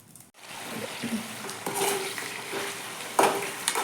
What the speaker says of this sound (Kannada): ಎಣ್ಣೆಗ ಫ್ರೈ ಮಾಡ್ಕೊಳಕತ್ತೀನಿ ನೋಡ್ರಿ